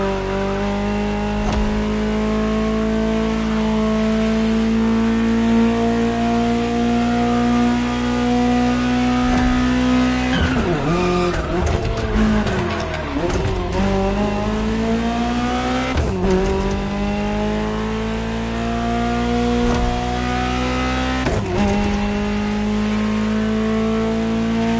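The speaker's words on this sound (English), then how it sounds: "Just listen to the car you're driving." A Ferrari supercar in The Crew Motorfest racing game drones at high revs with a strong, steady engine tone, dipping and climbing through gear shifts and sudden revving swoops partway through, loud and alone.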